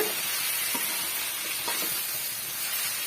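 Masala paste is stirred into brinjal frying in plenty of oil for a Chettinad ennai kathirikai kulambu, a dense steady sizzle close by with soft stirring scrapes throughout.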